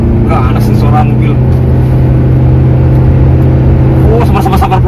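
A Wuling Almaz medium SUV with a turbo engine accelerates hard in sport mode, heard from inside the cabin as a loud, steady engine and road drone with a rising tone, while people talk over it.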